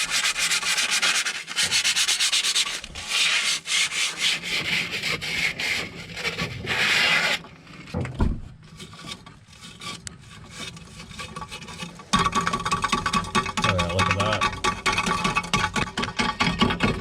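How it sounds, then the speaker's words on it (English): Sandpaper scrubs a 1988 Mustang T-top part wetted with WD-40 in rapid, rasping back-and-forth strokes. The sanding is loud and close, with a pause partway through before it starts again. "I'm gonna go ahead and get that cleaned up with some sandpaper."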